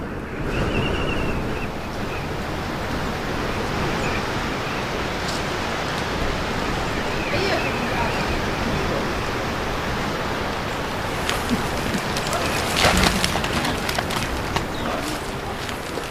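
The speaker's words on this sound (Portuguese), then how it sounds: "O vento do deserto traz areias escaldantes, impedindo a equipa de trabalhar." Steady desert wind carrying scorching sand, a loud continuous broadband rush with gusty buffeting on the microphone that swells near the end, with no voices.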